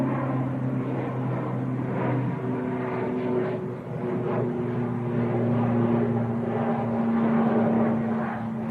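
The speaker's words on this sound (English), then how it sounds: "Aer Lingus Etihad just getting airborne" An Aer Lingus airliner climbing away after takeoff at Manchester Airport, a continuous loud jet roar with steady droning tones that hold evenly and swell slightly toward the end.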